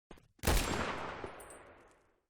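A gunshot rings out in a video game, a couple of quick clicks then one sharp loud blast with a long echoing decay tailing away over two seconds.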